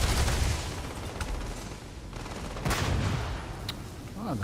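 Gunfire in the space game Starfield, dense rapid bursts of shots and booming impacts rattling continuously at close range over several seconds.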